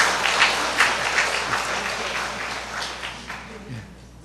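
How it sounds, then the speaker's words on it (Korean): Church congregation applauding steadily at a women's missionary society lecture, a dense wash of clapping that holds for several seconds and slowly thins toward the end, with faint voices underneath. "자, 박수 한번 쳐주십시오."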